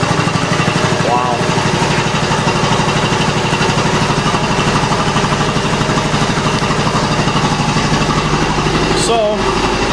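A Quincy QR-325 air compressor runs loud and steady up close, a continuous mechanical drone as it pumps up, with a voice speaking briefly over it.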